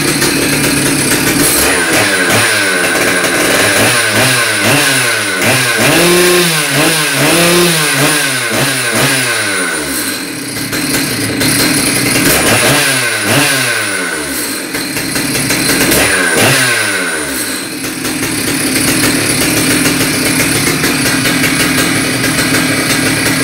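A Stihl MS 880 chainsaw with a freshly reringed cylinder idles and is revved in several rising bursts, loud and close, with the engine note climbing and falling between steadier idling stretches.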